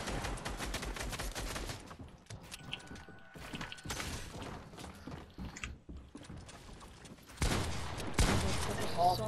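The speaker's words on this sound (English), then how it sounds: "I'm getting shot from both ways." Bursts of gunfire and mechanical action sounds from a Fortnite match come in uneven clusters with short quiet gaps, ending in a louder dense stretch of shots.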